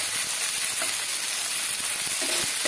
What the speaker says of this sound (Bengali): এবারে চিকেনগুলো ওই পিঠটাও, যে পিঠটা হয়নি সেটা উল্টে দিচ্ছি